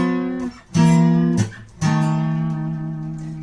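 Electric-sounding guitar playing two bent notes in sequence moving down the neck, sustained pitched tones with audible bends and short gaps between, close and alone.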